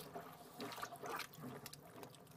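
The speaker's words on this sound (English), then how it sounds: "you just scrunch them up under the water like that, and the water will go in, the air bubbles will come out" Dry ice pack sheets being scrunched underwater, with air bubbling and gurgling out as water soaks in; a close, continuous watery sloshing with bursts of bubbles.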